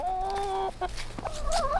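Chickens clucking in their little hut on a cold day, a close sustained hen call followed by several shorter clucks and squawks, no speech.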